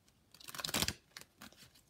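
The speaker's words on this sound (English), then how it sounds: "One more shuffle." Stiff crystal-reading cards being shuffled by hand: a quick burst of riffling and flapping that peaks briefly, then a few lighter shuffles and taps, close and fairly quiet.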